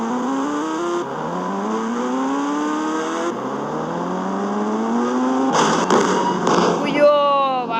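Motorbike engine in the Indian Bike Driving 3D video game, a ghost bike revving with rising, sweeping pitch, then tire squeals and skids near the end, with speech over it.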